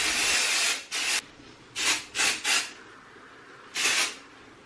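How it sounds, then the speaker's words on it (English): A Living Proof Full Dry Volume Blast spray is sprayed onto hair in several short hissing bursts, the first longer, then two or three quick puffs and one more after a pause, close and fairly quiet. "Probably my favourite volume spray."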